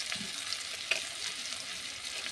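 Taro leaves and hilsa fish cook in a pan with onion, giving a soft steady sizzle with a faint clink or two, close and fairly quiet, without talk.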